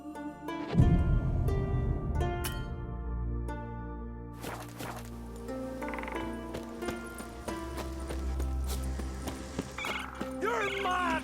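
Horse hooves gallop in The Witcher 3, a steady clip-clop rhythm running under game music and voiced dialogue, fairly close and moderately loud throughout.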